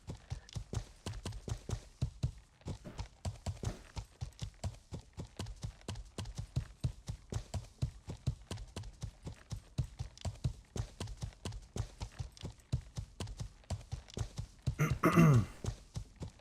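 Horse hooves pulling a cart in a video game clip-clop steadily and evenly at a walking pace, a long regular rhythm of moderately close hoof strikes, with a brief cough near the end.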